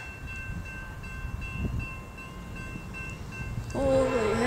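An Amtrak passenger train rumbling past close by, ending in a loud, wavering horn-like tone; no voices.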